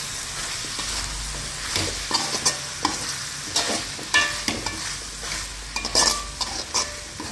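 Chopped tomatoes sautéing in a pan for a mutton curry, a continuous close sizzle broken by repeated scraping stirs of a spoon against the metal pan.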